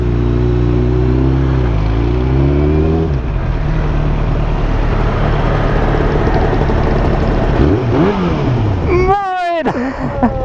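Yamaha R1 motorcycle engine revving loudly up close, a steady roar with rising and falling pitch, then a sharp high rev near the end, under shouting voices.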